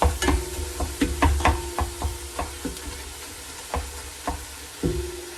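Ground meat sizzles steadily as it browns in a hot pan while a utensil scrapes and knocks against it in irregular strokes; no one speaks.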